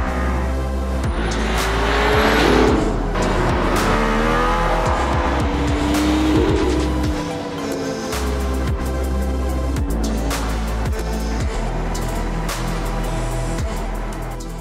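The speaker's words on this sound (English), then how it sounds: "This car, the AMG ONE, is in a league of its own, especially in Marco's capable hands" Mercedes-AMG ONE hypercar accelerating hard on a race track near Barcelona, its high-revving engine climbing through rapid gear changes with rising and falling pitch sweeps, loud and close, with brief tire noise and no talk.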